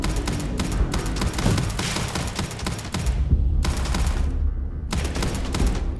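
Gun firing in the video game Starfield: rapid, loud bursts of automatic fire in close succession, broken by two brief pauses, with no talk over it.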